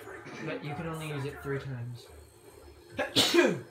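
A single sharp sneeze bursts out near the end, close and loud, after a stretch of steady talking during a Call of Duty Zombies session on the Verrückt map.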